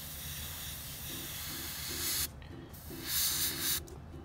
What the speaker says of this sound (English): when you're doing your fine lines or your fine detail work, you absolutely want to spray at a low PSI.